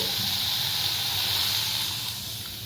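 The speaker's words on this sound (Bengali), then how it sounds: "এবার আমি এখানে পরিমাণ মতো জল দিয়ে দেব।" Water poured onto frying spice paste in a pan for a yogurt katla fish curry, a steady loud hiss and sizzle that fades slightly toward the end.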